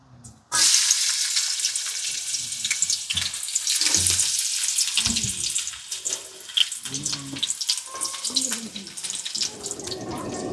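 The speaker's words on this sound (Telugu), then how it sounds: "నూనె కాగింది, ముందుగా తరిగి పెట్టుకున్న ఎర్రగడ్డ ముక్కలు వేస్తాను" Chopped red onions drop into hot oil in a kadai, setting off a sudden loud sizzle that continues as a bright, crackling frying hiss with occasional clinks.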